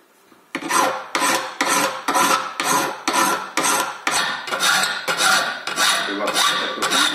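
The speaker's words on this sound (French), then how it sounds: "je m'attaque à tout ça avec une bonne lime" Steady rhythmic rasping of a hand file on metal while shaping a miniature karambit knife, about a dozen forceful strokes in a regular back-and-forth pattern, loud and close.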